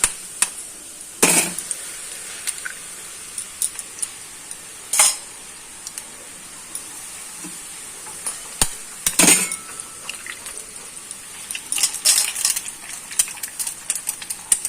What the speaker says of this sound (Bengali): এবার ডিমটা একে একে ফাটিয়ে দিয়ে দেবো।